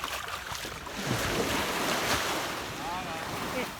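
Sea waves wash steadily onto a seaweed-strewn shore, a broad continuous surf rush with wind buffeting the microphone, fairly loud and close throughout.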